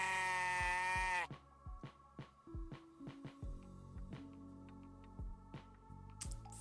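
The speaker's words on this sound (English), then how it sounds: "Thank you, Gemma, for the goat scream." A goat-like scream, a long harmonic bleat lasting about a second, opens loud and alone, then gives way to scattered knocks and faint tonal thumps.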